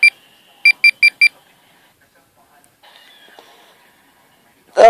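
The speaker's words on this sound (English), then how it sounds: "this beep is the hourly alert off, and this is hourly alert on" A digital wristwatch sounds its hourly alert: one short high beep, a pause, then a quick run of four identical beeps, close and clear. A voice begins speaking at the very end.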